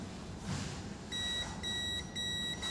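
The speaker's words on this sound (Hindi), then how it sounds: "बजर आ रहा है।" A multimeter's continuity buzzer sounds while probing a short on a Redmi 8A phone circuit board: a steady high electronic tone, clear and close, switching on and off in several bursts after a quiet start.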